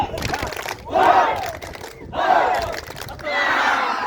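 A group at a fun-games outing at a villa in Lembang shouts a rhythmic family clap chant in unison, three loud chanted bursts separated by short gaps, with clapping mixed into the voices.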